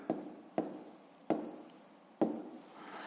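Numbers written by hand on paper in four short scratchy bursts, each starting sharply and fading, irregularly spaced, close and soft with no one speaking.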